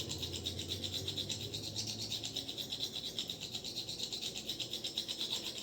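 A straight razor is honed carefully on a stone with faint, even, rhythmic stroking strokes that repeat steadily back and forth, quiet and close, with no voices.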